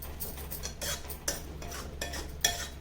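A spoon scrapes and stirs in a pan as chilli powder is mixed into brinjal pulao, making irregular metallic clinks and scraping strokes with no talking.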